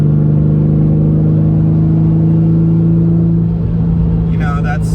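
Steady low engine drone of a Porsche 911 cruising at about 75 to 80 mph on light throttle, a smooth even rumble with constant road noise and no revving.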